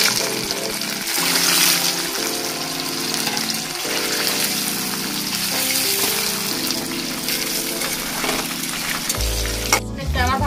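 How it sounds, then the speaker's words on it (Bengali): Paneer fries in white oil in a pan, giving a loud, continuous sizzle with bubbling texture throughout, with a low background hum and a brief clatter near the end. "সাদা তেলটা দিয়ে আমি পনিরটাকে ভেজে নেব।"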